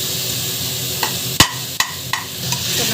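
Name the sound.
sautéing tomatoes in a pan for biryani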